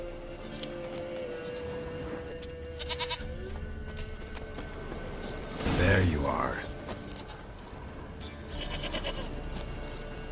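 Goat bleating in The Witcher 3, one loud, drawn-out bleat mid-clip over game ambience, with a man's brief remark and faint mechanical clicks around it.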